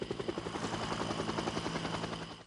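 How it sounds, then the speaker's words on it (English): Huey helicopter landing, its rotor blades chopping in a fast, steady pulse with a low whining engine beneath, fairly constant in level throughout. "The helicopter, a Huey, is what was used in Vietnam and now lands at the correct angle."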